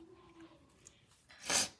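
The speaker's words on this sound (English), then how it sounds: "I like wasn't expecting to sneeze so much." A single sharp sneeze bursts out near the end, after a brief quiet voice and a soft breath.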